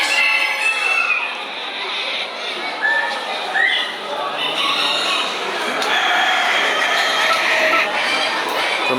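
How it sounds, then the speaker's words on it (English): A white Peking bantam hen at a poultry show clucks softly amid a busy hall of other fowl, with crowing and clucking from many birds and background chatter running continuously throughout. "Also some very nice white Peking bantams, especially this hen over here."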